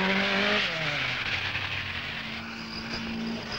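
Henri Toivonen's Ford Escort rally car drives through a stage, its engine note rising and falling in loud, close passes with steady road roar throughout.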